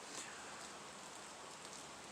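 Rain falls outside in a garden as a faint, steady hiss with soft pattering and no pauses.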